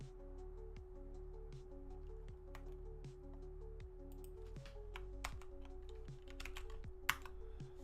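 Steady, close typing on a computer keyboard during work from home on an open source project, continuous quick key clicks with occasional louder taps, no talking.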